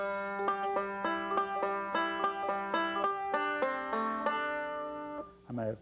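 Five-string banjo picking forward rolls and then a forward reverse roll, a fast, even stream of bright plucked notes close by over a steady low drone, followed by a brief voice at the end.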